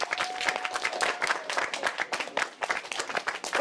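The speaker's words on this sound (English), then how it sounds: "let's give ourselves a round of applause" A group at a cooking demo claps for themselves after a potato challenge, a brisk, uneven patter of hands from a small gathering, moderately loud, with a faint tonal hum running underneath.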